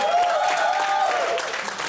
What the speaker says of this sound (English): Okay, give a round of applause.